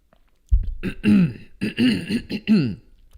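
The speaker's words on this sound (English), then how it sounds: "I have to clear my throat" A single person clears their throat close up in a few rough, guttural bursts after a brief silence.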